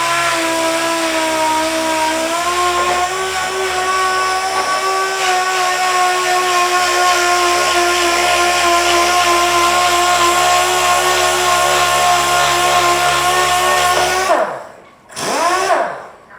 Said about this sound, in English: So let's get started sanding.